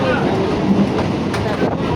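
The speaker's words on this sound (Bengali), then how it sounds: "অবশেষে ট্রেনের আগমন ঘটবে।" A train arrives at a station, a steady low rumble of railcars rolling past with faint rhythmic wheel clatter, fairly loud and continuous, mixed with crowd background.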